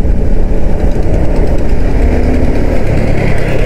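A Suzuki Gixxer SF 250 motorcycle engine drones steadily and loudly while riding through city traffic, a continuous low rumble with wind and road noise throughout, no voices.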